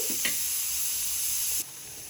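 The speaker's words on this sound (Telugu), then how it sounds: "ఈ టమాటా ముక్కలు కూడా వేసుకొని కలుపుకున్న తర్వాత మూత పెట్టుకుంటే టమాటా అనేది త్వరగా ఉడుకుతుంది" Tomato pieces cook in a covered pan with a steady, close sizzle and hiss that drops slightly quieter near the end.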